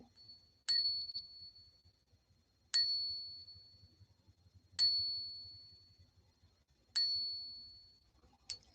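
Metal bullion round being ping-tested for authenticity, struck five times at even intervals of about two seconds. Each strike gives a sharp tap and a clear, high ringing tone that slowly decays, in a quiet room with faint low background noise.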